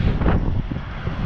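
Wind buffeting the microphone at a fuel stop during a Peterbilt trip, a brief steady low roar with no talk.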